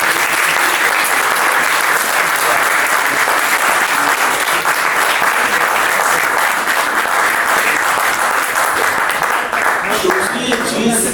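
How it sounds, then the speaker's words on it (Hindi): Loud, continuous audience applause for young actors fills the room, a thick, even roar of clapping sustained throughout. "इसके लिए एक जोरदार ताली"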